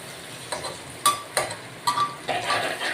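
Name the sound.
frying gram flour in a pan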